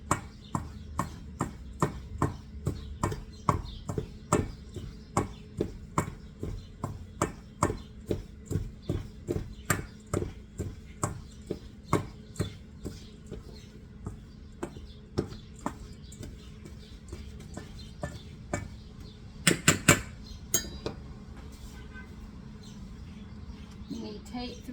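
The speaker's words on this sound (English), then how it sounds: "You're going to mix all this up." Oatmeal raisin bread ingredients being stirred in a bowl, a steady series of light, regular knocks and scrapes from the mixing, repeated about twice a second, with a brief louder clatter near the end.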